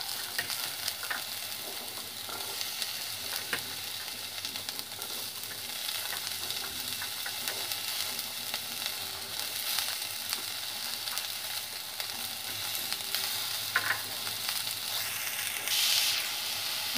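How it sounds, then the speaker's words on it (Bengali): Tomatoes, slit green chilies and peas fry with lightly fried broccoli in a pan for an onion- and garlic-free curry, making a continuous close sizzle with scattered stirring scrapes and occasional clicks. "এবার টমেটোগুলো দিয়ে দিলাম, চেরা কাঁচা লঙ্কাটাও দিয়ে দিচ্ছি, মটরশুঁটিগুলো দিয়ে দিলাম"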